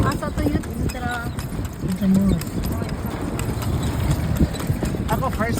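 Horse hooves clip-clop steadily on pavement as the horse pulls a kalesa through Intramuros in Manila, the rhythmic clatter close by while people chat over it.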